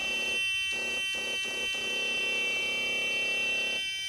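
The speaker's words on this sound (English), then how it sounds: "we've got a buzzer going off, which is probably a low air buzzer" A truck's low air pressure buzzer drones continuously in the background of a Cummins-powered truck, broken by a few short clicks and knocks early on, fairly quiet and even.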